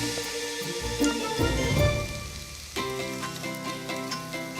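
A stir-fry with soy sauce and chilli sauce sizzles steadily in a hot pan, with a denser burst partway through as it is stirred, close and continuous, without talk.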